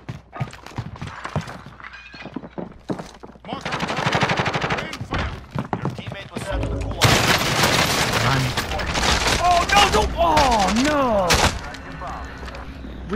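Gunfire and explosions in the Ambassador video game, with dense, loud bursts of shots and impacts that keep going through most of the stretch, under excited voices.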